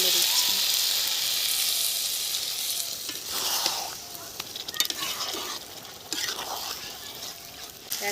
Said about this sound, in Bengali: এখন আমি জল ঢেলে দিচ্ছি।